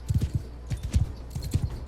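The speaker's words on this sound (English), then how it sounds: "This is a slow horse too." Horse hooves clip-clopping in a battle of Mount & Blade II: Bannerlord, an uneven run of soft, low thuds at moderate distance with no talk over it.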